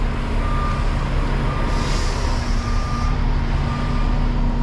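Truck backing up at a backwoods truck stop, its reversing alarm beeping in a steady, evenly spaced rhythm over a constant diesel rumble, with no voices.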